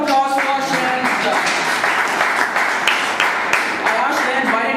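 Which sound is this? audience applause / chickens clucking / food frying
audience applause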